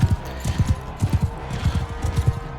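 A horse galloping in the medieval combat game Mount & Blade II: Bannerlord, its hooves pounding in a fast, steady rhythm of heavy thuds, loud and close with no voices.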